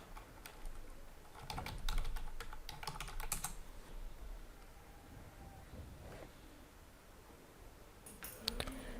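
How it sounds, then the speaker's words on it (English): Computer keyboard clicking as a location is typed into a search box, quick bursts of keystrokes early on, then a quieter stretch with a few scattered taps and a final short flurry. "Now click on this search box and type the location."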